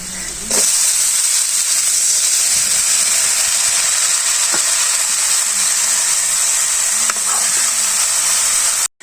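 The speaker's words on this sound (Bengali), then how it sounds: "ভালো করে কষিয়ে নিলাম মশলা" Spices sautéing in a pan for a small-fish curry with water lily stems in a village kitchen, giving a loud, steady hiss and sizzle that runs almost unbroken, with a few faint clinks.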